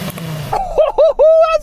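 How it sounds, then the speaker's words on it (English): An Audi Quattro Group B rally car engine blips sharply three times, each rev rising and falling quickly before a longer sustained rev, loud and close. "rev up the rally car"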